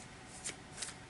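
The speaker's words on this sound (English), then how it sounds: "I do pre-shuffle all my cards so that we do not have to sit here and listen to me shuffle all night." A deck of oracle cards is shuffled quietly, with two or three soft riffling flutters close by in an otherwise hushed room.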